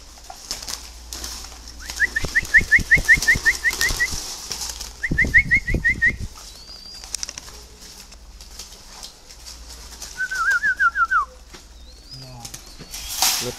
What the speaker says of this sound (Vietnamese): Đây là những chú chim giống.